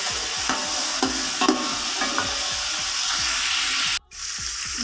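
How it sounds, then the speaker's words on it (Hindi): Onions, tomatoes and green chillies frying in a pan for chana pulao, a steady sizzle with regular scraping strokes of a spoon stirring, ending in a brief cut. "अभी 2 से 3 मिनट मैं इसको ऐसे ही फ्राई करूँगी ताकि ये अच्छे से सारी चीज़ें मिक्स हो जाएं"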